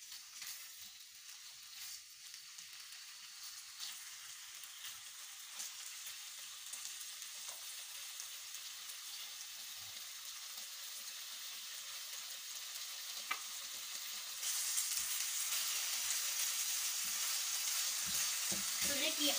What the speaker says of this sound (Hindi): इस ऑयल के अंदर कलर चेंज होने तक हम इसे फ्राई करेंगे।